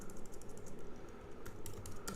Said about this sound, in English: Once again, I'm back on my tiny keyboard.